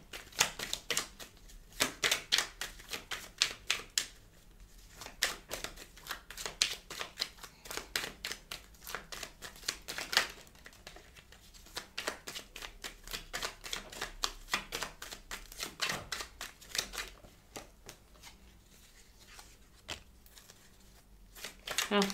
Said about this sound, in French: je vais également vous prendre une carte pour l'énergie de votre vie sentimentale